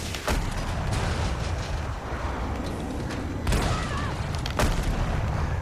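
TOW missile strike in Battlefield 2042 amid tank combat, several heavy booms and sharp blasts standing out over constant loud battlefield noise, close and forceful.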